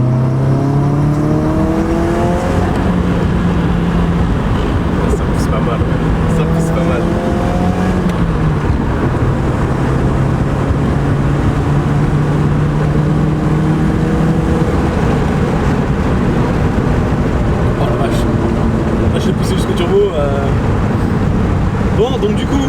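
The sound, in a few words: Nissan S13 engine revving with turbo spooling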